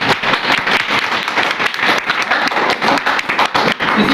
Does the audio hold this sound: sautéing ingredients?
no